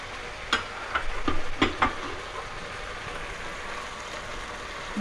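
Peas frying in a spiced tomato masala for pea pilaf give a soft, steady sizzle, with a few sharp clicks and scrapes of a spoon stirring them in the pan near the start.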